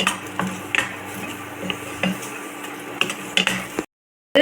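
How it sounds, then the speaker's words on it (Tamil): Two large onions sautéed in a kadai, a spatula scraping and clinking against the metal pan in irregular taps over a soft steady frying hiss, close up, ending abruptly. "கொஞ்சம் நல்லா வதக்கிக்கலாம்."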